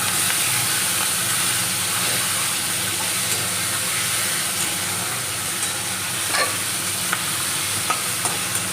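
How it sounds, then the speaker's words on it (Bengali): Split green chillies and thickly chopped onion fry together in a pan, giving a loud continuous sizzle with faint scraping of stirring and no voices. "আর এর সাথে দিয়ে দেবো কাঁচা লঙ্কা চেরা আর একদম একটু মোটা মোটা করে পেঁয়াজ কুচোনো, এটা একসাথে ভেজে নেবো।"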